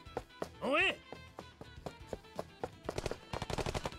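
Sharp synthetic video game gunshots crack in bursts, building into rapid automatic fire near the end, with a brief voiced shout early on.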